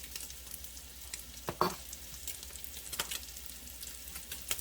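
Bacon frying in a pan, a faint crackling sizzle with scattered pops and one sharper clatter, quiet and close with no talking.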